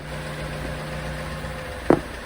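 A Vauxhall Corsa engine runs at a steady idle, a constant low hum with a faint hum line, broken near the end by one brief sharp knock or clunk.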